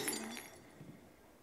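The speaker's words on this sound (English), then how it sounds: "There goes the glass." Glass shatters in a dramatic TV drama scene, a short bright crash and tinkle at the start that quickly fades into quiet.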